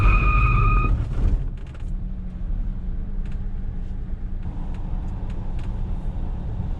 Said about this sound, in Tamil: பட் அந்த வீல் ஸ்க்ரீச் ஆன சவுண்ட் உங்களுக்கு கேட்டிருக்கும்